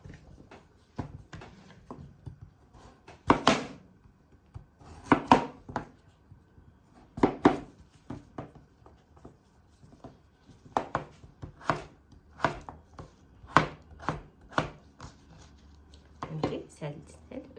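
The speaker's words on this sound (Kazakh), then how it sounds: "Үлкен кубикта тураймыз." A knife cuts potatoes into large cubes on a board, giving sharp, irregular close chops spaced through a quiet kitchen.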